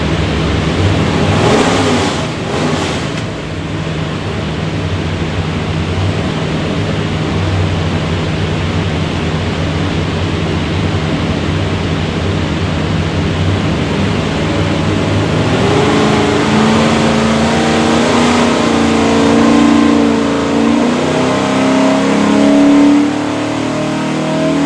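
Ford 347 stroker V8 with a Holley carburetor and MSD Pro Billet ignition running on a dyno, a loud continuous engine roar that holds steady and then climbs in pitch as it revs up under load near the end.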